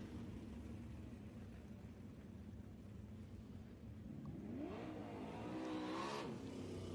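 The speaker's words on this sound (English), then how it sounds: "One more car exiting the racetrack." A 360 sprint car exiting the track at an East Bay Raceway Park race, its engine rumbling steadily at a distance, then revving up with rising and falling pitch as it accelerates in the last few seconds.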